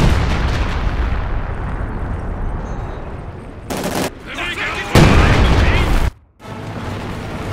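Dense machine gun fire and artillery booms in the World War II strategy game Company of Heroes 2, a loud rattling barrage with sharp explosive bursts and a brief drop before the fire resumes.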